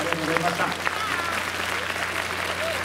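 An audience at a talk show with two Chunichi Dragons baseball players gives sustained, dense applause that stays steady throughout, with a voice faintly audible underneath.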